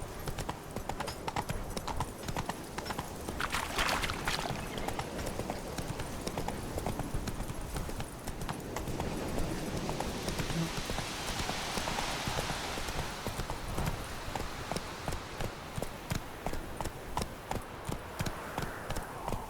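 Horse hooves clip-clop at a steady gallop in The Witcher 3 video game, a continuous rapid drumming rhythm, fairly loud and close, with a faint voice spurring the horse on.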